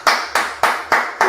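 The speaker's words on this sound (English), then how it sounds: "So clap it up." A single pair of hands claps five times in a steady, evenly spaced rhythm, each clap sharp and close.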